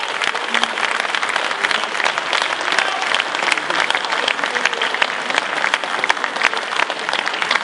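Dense, sustained applause from a large audience at a political support rally in Dijon for François Hollande's campaign, steady and loud throughout with no letup.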